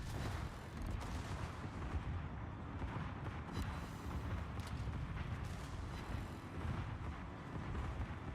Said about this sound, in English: Torpedo hit on the Montecacholi.